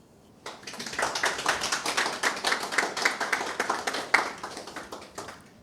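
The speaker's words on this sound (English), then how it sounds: "Let us give a wonderful round of applause to His Excellency, Datti Baba-Ahmed." Audience applause for Datti Baba-Ahmed at a public speaking event, a steady burst of many hands clapping that swells after a quiet start and holds for several seconds with no talk over it.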